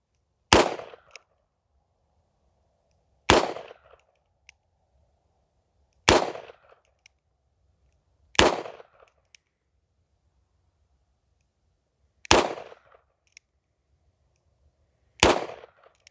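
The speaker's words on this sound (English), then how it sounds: "we're gonna shoot this" Six sharp, loud shots from a .38 Special revolver fired outdoors at dusk, each a single crack with a short decaying echo, spaced irregularly several seconds apart, with silence between.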